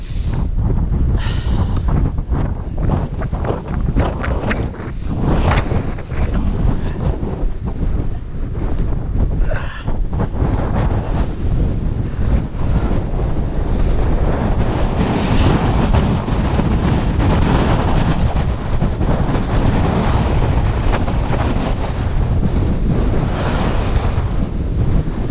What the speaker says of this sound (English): Definitely a westerly wind.